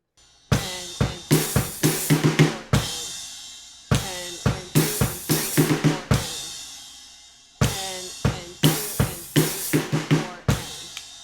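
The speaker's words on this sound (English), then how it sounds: "and then we do the and of 4 on the crashes and the kick drum" A drum fill from the drum part of a song played three times, each a quick burst of snare and tom hits ending on loud crash cymbals with kick drum on the and of 4, separated by short pauses.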